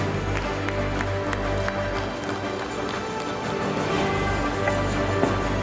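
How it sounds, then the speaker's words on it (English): Steady crowd applause fills a hall at the Naparima College graduation and awards ceremony for the Form 6 graduating class of 2024, dense clapping sustained throughout with scattered sharper claps standing out near and loud. "one last round of applause for the Form 6 graduating class 2024"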